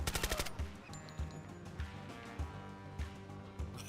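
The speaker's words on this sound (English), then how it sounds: "I love it when a machine gun gets fucking action" A machine gun in Call of Duty Blackout fires a quick rapid burst, then single shots land at a steady spaced rhythm. The gunfire is loud and close against the game background.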